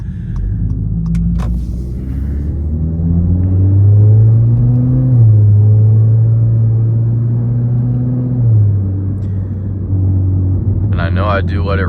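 A modified 2022 Acura ILX A-Spec engine revs up while driving, rising to a loud sustained drone, holding, then dropping back as the car cruises, with a rumbling cabin sound and a brief voice near the end.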